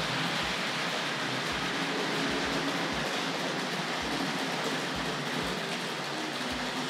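A Hornby Dublo model train runs along the track into a station, giving a steady, close rumbling hiss with regular soft clicks from the rail joints. No one speaks.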